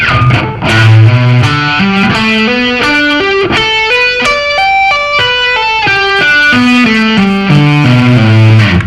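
Distorted electric guitar plays a flowing arpeggio, single notes climbing and descending at a steady, unhurried pace, loud and up close.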